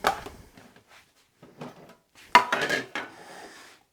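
A knife cuts a vegetable finely on a board for salsa, giving a few light scattered taps followed by a louder cluster of quick clattering chops, close by with no talking.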